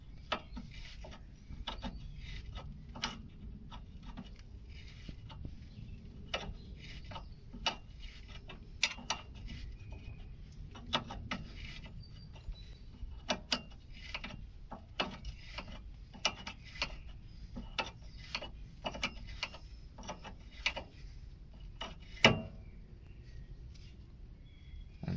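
A 12mm spanner working a bolt on a Toyota Aygo wishbone gives a long series of sharp metallic ticks and ratchet-like clicks at an irregular pace over a quiet garage background, close and moderately loud.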